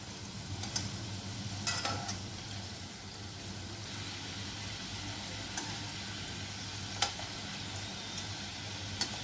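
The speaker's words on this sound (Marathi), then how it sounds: "असे उलटे देखील करायचे म्हणजे ही साईड जी आहे ती व्यवस्थित तळून निघते।" Sweet modak dumplings being deep-fried in oil and turned over: a soft, steady sizzle with a few light utensil clicks, heard on its own without speech.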